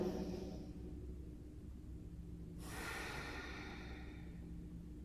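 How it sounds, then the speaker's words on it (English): Slow, deep belly breathing: a long, soft inhale drawn close to the mic, followed by a rushing breath sound. "Inhaling into the belly."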